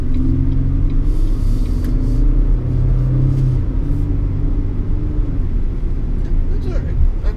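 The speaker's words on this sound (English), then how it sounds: "let's get this vehicle onto a back road and see what it'll do." A 2019 Chevrolet Colorado ZR2 pickup truck engine rumbles steadily up close on a back road, a low droning motor with slight shifts in pitch as it drives along, no voices over it.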